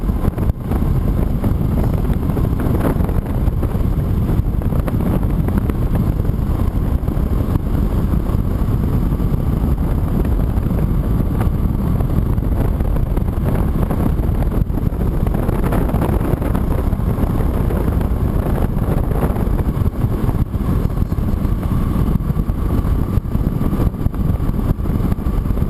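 A 2015 Honda CTX700 motorcycle on the move, its engine drone buried under a constant loud roar of wind buffeting the microphone, steady throughout with no speech.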